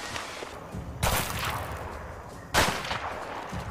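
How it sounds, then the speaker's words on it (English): Two sharp anti-personnel rifle shots in a video game, each a sudden loud crack with a brief noisy tail, spaced about a second and a half apart over a quiet background. "Did I just take that bullet from this fucking, like, anti-personnel rifle?"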